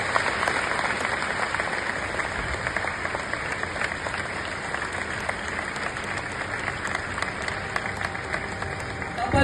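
A gathering of devotees at a Swaminarayan religious event breaks into sustained applause, many hands clapping in a continuous dense wash that stays even and moderately loud to the end.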